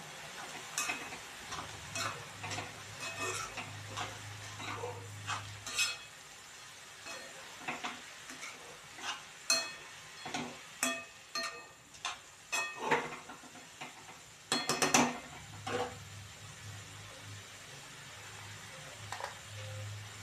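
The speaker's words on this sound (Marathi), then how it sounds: "हे सगळं मिक्स करून घेऊया।" Ingredients get stirred and mixed in a pan for a Marathi mugdal and onion bhaji, with scattered spoon taps and scrapes against the metal over a faint low hum, irregular and fairly close.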